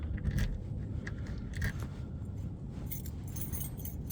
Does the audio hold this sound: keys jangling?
yes